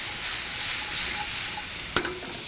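Steady sizzle of food sautéing in a hot pan as a squeeze of lemon goes in, with a constant bright hiss and a single sharp clink partway through.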